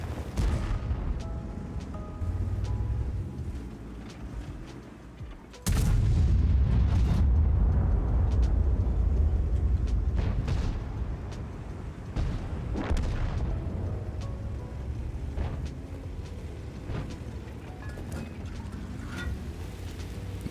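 A World of Tanks tank gun fires a heavy booming shot partway through, followed by rumbling, fainter distant blasts and ongoing battlefield noise, without talk.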